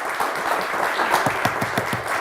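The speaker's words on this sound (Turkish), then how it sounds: "Buyurun efendim bir alkış var." Studio audience applause on a Turkish word game show, a broad, sustained crowd clapping at even loudness with a few sharper claps near the front.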